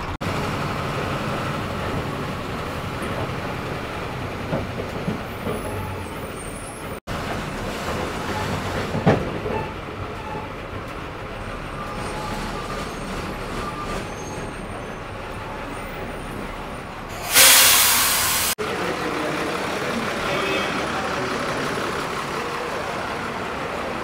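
Steady rumbling drive of an MSRTC passenger bus heading toward Thane, a continuous vehicle roar with rattles and a brief loud burst of noise midway, no talking.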